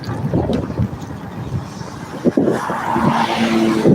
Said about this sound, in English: hopefully the motorcycle was loud enough to drown it out